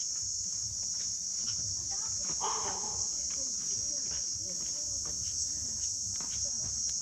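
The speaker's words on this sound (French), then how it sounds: "Avec les grillons." Crickets in Sri Lanka chirp in a continuous high, steady trill, with low background murmur and a brief rustle partway through.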